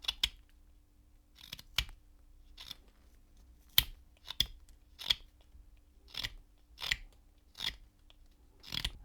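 A blade cuts the brow on a carved wooden woman's face: about a dozen short, crisp snips come one after another at a steady pace, close and fairly quiet, with no talking.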